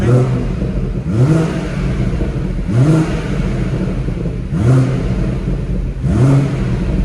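A BMW M140i engine in sport mode blips four times at evenly spaced intervals, each rev rising then dropping back into a deep burbling idle, loud and close, with no talk.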